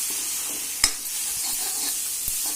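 Onions sizzle in a hot pan with red chili powder added, a steady close frying hiss broken by a sharp stirring scrape.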